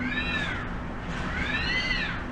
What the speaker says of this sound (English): y'all hear that noise? Sounds like cats in heat.